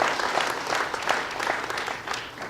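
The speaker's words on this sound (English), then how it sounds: "please join me in giving them a round of applause" An audience claps for city council members at an outdoor shell venue event, a dense, steady round of applause lasting throughout with no talking.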